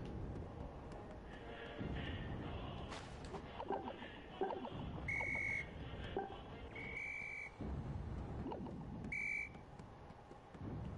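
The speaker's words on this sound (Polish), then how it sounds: "Czego oni trąbią?" Cars in a video game honk three short, tonal blasts spaced a couple of seconds apart, set against a busy, rumbling background of street and game noise.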